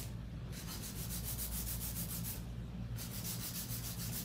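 A hand-held nail file rasps back and forth across a fingernail in a nail salon, close and quiet, with fast even strokes in two bursts separated by a short pause, with no talking.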